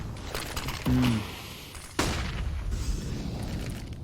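A flashbang grenade in the Counter-Strike game goes off with a sharp, loud burst partway through, following a brief tonal beep and amid steady in-game gunfire and match noise.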